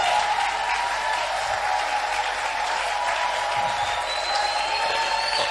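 A church congregation at a revival service applauding in a dense, continuous wash of clapping, loud and sustained throughout, with scattered voices blending into the crowd.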